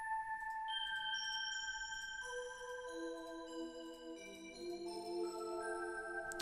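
Korg M1 synthesizer preset with a soft, slightly breathy bell-like tone, playing a slow line of overlapping sustained notes that ring into one another, steady and alone without any talking.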